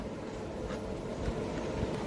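The 12775 Cocanada SF Express runs smoothly on its rails between Kakinada Town and Lingampalli: a faint, steady low rumble with soft, muffled clicks, and no voices.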